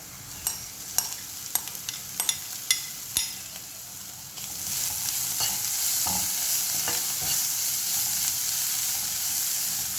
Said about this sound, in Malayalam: അതിൻ്റെ കൂടെ പീസാക്കി വെച്ചിരിക്കുന്ന ചിക്കൻ ബീഫ് ചേർത്ത് ഇളക്കാം